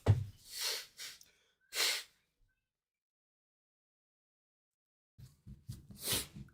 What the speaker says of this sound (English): I'm gonna blow my nose real quick.